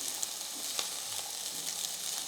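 Chili powder and turmeric fry in a little oil for oats kichadi, making a soft continuous sizzle with a few faint stirring ticks.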